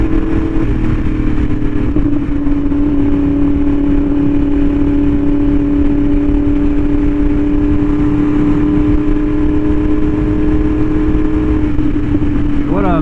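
A Yamaha R1M motorcycle with an SC Project exhaust cruises on a scenic road, its engine holding a loud, steady drone under constant wind rush, with a brief rise in pitch at the end.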